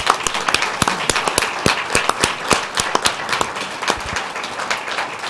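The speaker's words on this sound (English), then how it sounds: "Let's give the Riverbend Rhapsody another round of applause." An audience applauds after a musical performance at a school board meeting, a steady patter of many hands clapping at an even level, close and sustained throughout with no speech over it.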